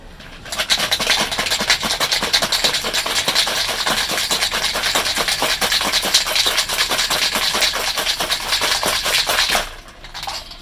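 A cocktail shaken hard in a shaker for the Shangri La drink, a steady dense rattling that runs loud and even for about nine seconds before stopping abruptly, with no talking.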